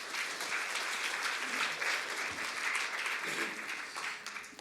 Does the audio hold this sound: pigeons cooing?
no